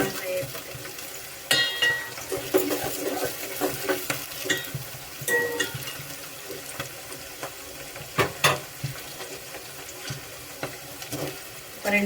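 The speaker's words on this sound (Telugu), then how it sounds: "నూనె బాగా వేడి మీద ఉంది కాబట్టి మీరు చూడ తొందరగా ఫ్రై అయిపోతాయి." Vegetables frying in very hot oil for a mixed vegetable curry, a steady close sizzle with repeated stirring scrapes and clinks of a spoon against the pan throughout.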